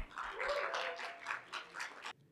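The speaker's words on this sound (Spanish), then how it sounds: "Vamos a darle un fuerte aplauso, por favor, el día de hoy a Michael Velázquez." An audience gives a presenter a strong round of applause at a talk. The clapping swells in pulsing waves for about two seconds, then stops abruptly and leaves near silence.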